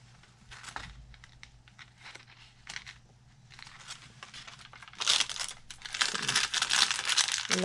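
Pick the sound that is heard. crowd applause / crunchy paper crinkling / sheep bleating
crunchy paper crinkling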